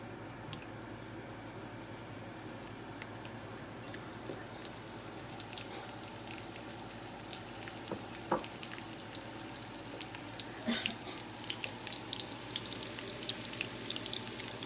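Onion frying in hot oil for chicken and egg noodles, a soft steady sizzle with crackles and pops that grow busier toward the end, faint and without talk.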